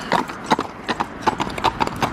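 Horse hooves clip-clop on a Stockholm street in a quick, steady rhythm of sharp close knocks, loud and clear with no talking.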